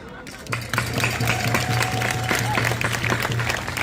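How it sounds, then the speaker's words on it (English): A crowd at an outdoor May Day protest rally for worker and immigrant rights in Tacoma, Washington breaks into sustained applause, a dense wash of clapping that swells and holds steady, with a steady low hum beneath it. "Give yourselves a round of applause."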